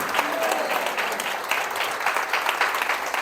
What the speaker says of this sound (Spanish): ¿Alguien le da un aplauso a Jesús?